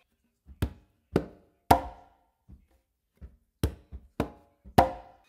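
Conga strokes played one at a time, a mix of deep bass tones, lighter finger touches and sharp slaps from both hands in a sparse, uneven rhythm, close and clear with no talking.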